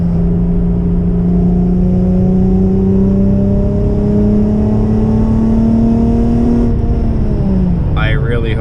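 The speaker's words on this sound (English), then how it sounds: "My car's literally cutting out." Acura TL SH-AWD with an RV6 exhaust revs loudly and steadily, engine tone climbing then dropping off near the end as it cuts out short of VTEC, with a brief voice at the very end.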